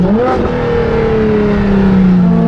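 A loud, raspy straight-pipe exhaust on a Ferrari LaFerrari holds a steady high rev with a slightly falling pitch, close and continuous throughout.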